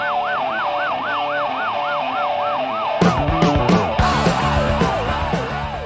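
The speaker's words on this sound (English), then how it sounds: "and the police siren is a nice touch." A police siren wails in steady rising and falling sweeps in a song, sounding alone at first before heavy guitars and drums crash in beneath it.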